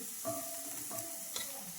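Food fries in a pan on a gas stove, a quiet, continuous sizzle broken by several scraping stirring strokes, with no talking over it.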